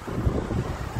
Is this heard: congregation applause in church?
no